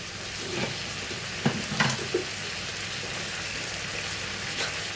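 Minced meat browns in a pan for spaghetti bolognese, giving a steady hiss of frying with a few brief stirring clicks partway through.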